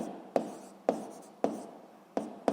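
Pen or pencil writing by hand on paper while working out a physics problem, with five sharp tapping strokes at irregular intervals, each followed by a soft scratching trail, close and quiet with no talk.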